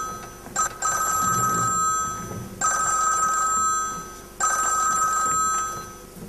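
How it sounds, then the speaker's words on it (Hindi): A telephone rings during a stage drama at a cultural meet, three bright electronic ring bursts at a steady interval, loud and clear with faint background murmur. "अरे फोन लो ना।"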